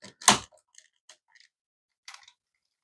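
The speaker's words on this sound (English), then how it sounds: "we've got ratchet joints in the knees." Plastic ratchet knee joints on a Devastator transforming robot toy being moved, giving one sharp loud crack followed by a few faint scattered clicks, close up with no voices.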